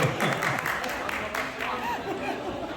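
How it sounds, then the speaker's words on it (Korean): Applause from a church congregation during a deacons' seminar, a brief burst of clapping mixed with chatter and light laughter, fairly close, with people talking throughout. "박수 박수"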